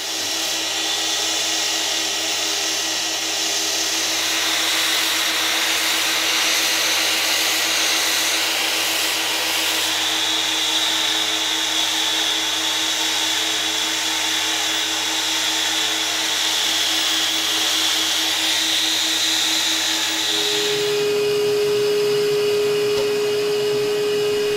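A power drill spins a sandpaper-covered firm head to texture an oak bowl, giving a steady, loud, continuous whirring drone that shifts pitch near the end with no voices.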